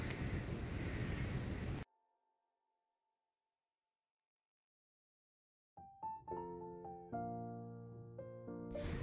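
Gusty wind buffets the microphone outdoors at Riverland in Dubai for under two seconds, a loud rough rush that cuts to near silence before unrelated tonal sounds begin.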